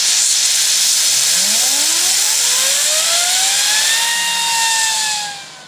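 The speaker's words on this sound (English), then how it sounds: "check this little turbine out, man. This thing goes." A small turbine is spun up, with a loud steady hissing roar and a whine that climbs sharply in pitch, then holds high before fading at the end; no one speaks.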